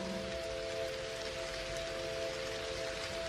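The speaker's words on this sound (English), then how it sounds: "It's starting to rain. The raindrops are gently dancing on the exterior of your pod." Steady rain patters on the exterior of a pod, a dense, even hiss that holds constant throughout, with a faint low hum running underneath and no voices.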